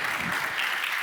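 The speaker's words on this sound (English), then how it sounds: "Big round of applause." An audience at a conference event applauds, a dense, steady wash of clapping that fills the whole brief moment without any voices over it.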